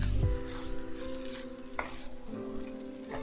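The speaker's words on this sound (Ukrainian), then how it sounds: "Знову все перемішую" Fried eggplant stirred in sour cream in a pan, a continuous bubbling sizzle with a spoon scraping through it, one loud clatter at the start and a few softer knocks later, close and with no talking.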